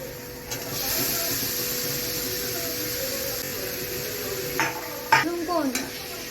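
Boiled, chopped potato pieces with a little turmeric being stirred in a pan, a steady soft sizzle and hum with a few metallic scrapes and clinks of the spoon near the end.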